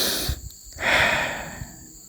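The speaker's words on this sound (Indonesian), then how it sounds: "Tarik napas," A deep breath is drawn in sharply, then a long, airy inhale swells and fades, close and clear with nothing else around it.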